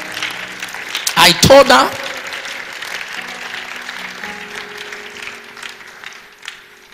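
A short burst of hand clapping from a small audience, lasting about a second, with a voice speaking before and after it.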